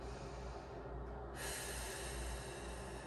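Steady, close breathing from someone holding a yoga pose with the chin pushed up; an even airy rush runs throughout, shifting slightly in tone partway through, with no talking.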